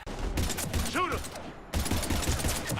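Rapid gunfire bursts from a Mass Effect 3 firefight, dense and loud, with a short gap mid-clip where a warbling synthetic tone cuts through, then shooting resumes at full intensity.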